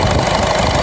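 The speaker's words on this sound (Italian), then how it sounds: "Adesso lasciamo il motore acceso per qualche minuto" A Peugeot 107 1.4 HDi diesel engine idling during an injector check, giving a loud, steady, close-up rumble with a knocking diesel texture and no pause.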